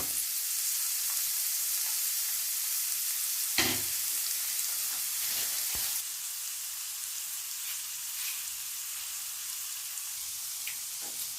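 Chopped onion and tomato with curry leaves fry in a pan for a plantain stir-fry, a steady close sizzle with a few stirring clinks and a slight drop in intensity midway.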